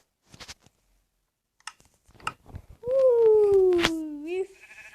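A single drawn-out sheep bleat from Minecraft sounds close and clear after some scattered clicks and short noises, ending in a faint electronic tone.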